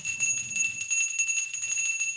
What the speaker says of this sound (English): Let's ring the bell for you.